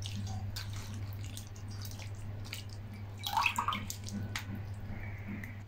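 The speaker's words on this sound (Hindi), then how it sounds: "देख सकते हैं अच्छे तरीके से नीचे जूस हमारा निकल चुका है ये।" Jamun juice dripping and trickling through a strainer into a vessel, a soft continuous watery patter with a brief louder splashy stretch in the middle, over a steady low hum.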